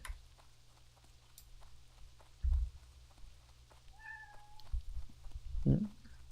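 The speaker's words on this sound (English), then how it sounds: "I hear a cat meowing." A house cat meows a couple of times in quick succession, faint and somewhat distant against a quiet room with a low steady hum and a few soft thumps.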